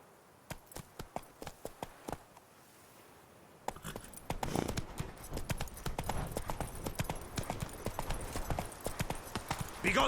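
Roach, Geralt's horse in The Witcher III, clip-clops with regular hoof strikes, sparse and crisp at first, then joined by a louder, denser bed of movement and rustling as the pace quickens.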